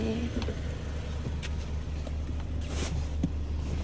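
Interior of a moving car: a steady low road and engine rumble with light wind buffeting and small thumps and rustles nearby, with no clear talking.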